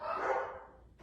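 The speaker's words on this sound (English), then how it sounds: "Don't mind the dogs, this is real world." A single short dog bark sounds at moderate distance, with a faint second yelp following right after, set against a quiet indoor space and no talk.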